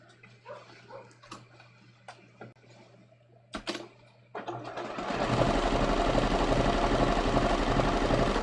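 A sewing machine runs a gentle meandering stitch on cashmere-blend trousers, starting after some light handling sounds and then humming steadily and loudly with a fast mechanical rhythm until the end.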